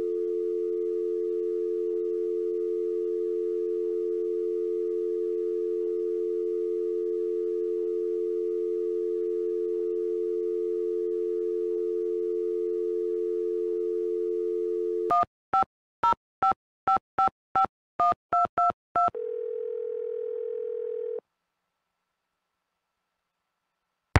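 A steady phone tone hums, then a quick series of touch-tone dialing beeps, followed by a brief ringing tone before silence, from a car phone in a Nancy Drew video game.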